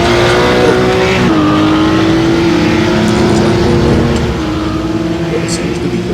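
A race car engine in iRacing at the Nordschleife drones loud and close at a steady high pitch, with a gear change partway through and a slight drop later, while a voice talks over it.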